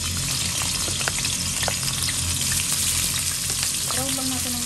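Steady, loud sizzling and crackling of chicken frying in hot oil in a pan fills the whole clip, with faint stirring noises near the end.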